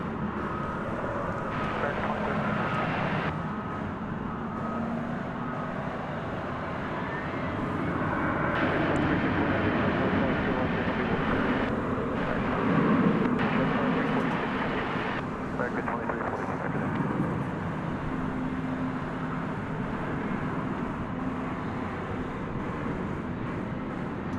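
An American Airlines jet departing Dallas/Fort Worth airport at night bound for Chicago O'Hare, a moderate, distant engine rumble that swells in the middle and fades gradually, with light wind noise and occasional talk underneath.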